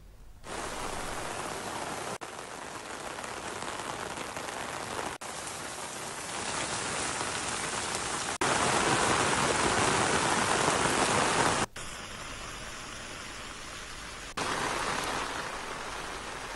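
Steady heavy rain pours onto surfaces outdoors in Vikarabad district, Telangana, a dense continuous hiss that swells and eases slightly through the stretch, with no voices present.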